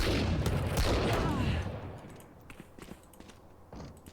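Rapid gunfire bursts in the video game Valorant, a loud cluster of shots at the start that breaks off into a few scattered quieter pops and footsteps afterward.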